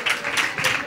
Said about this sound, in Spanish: Un beso y un aplauso para ellas